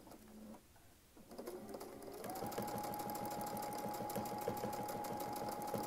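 A sewing machine stitching during free-motion quilting winds up after a quiet start and settles into a steady, rapid mechanical whirr with a continuous motor hum, close and fairly loud, with no voice.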